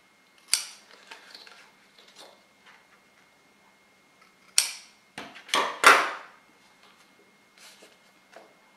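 Sharp scissor snips cutting the corners of paper for a scrapbook album page, a few isolated cuts, then a quick cluster of three or four close, crisp snips with quiet gaps between.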